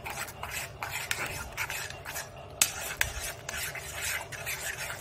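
Salt is stirred into kadai paneer gravy in a pan, giving steady close scraping and swishing strokes with a soft sizzle and one or two sharper clicks of the spoon, without speech.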